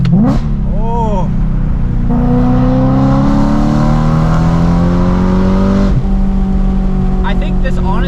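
BMW E92 M3 with an aftermarket exhaust accelerating hard, its engine note climbing steadily in pitch through a gear before a shift and another rising pull, loud and close from inside the car, with a voice speaking over it.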